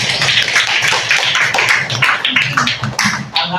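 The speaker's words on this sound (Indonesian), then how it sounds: "Kasih tepuk tangan." Classroom students in a religious studies lesson applauding, a brief burst of dense, quick claps from a group, close and lively for a few seconds.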